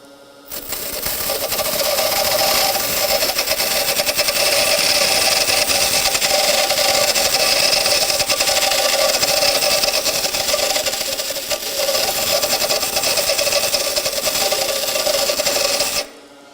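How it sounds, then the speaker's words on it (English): A grinding wheel is trued with a dressing tool moved side to side across its face, giving a loud, continuous rasping grind that holds steady for about fifteen seconds before cutting off. "I want to wear the wheel or true up the wheel all the way across"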